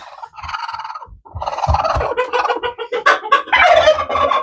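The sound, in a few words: angry broody Silky hen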